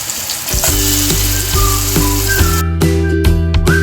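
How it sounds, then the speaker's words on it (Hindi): Chicken pieces shallow frying in hot oil for butter chicken, a loud close continuous sizzle and spatter that keeps on steadily, with a faint tonal hum underneath. "अब हम इसमें चिकन फ्राई करेंगे।"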